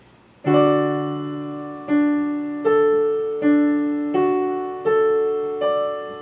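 Solo piano plays a measure: clear, ringing eighth-note chords struck in a steady sequence of about seven attacks, each decaying into the next.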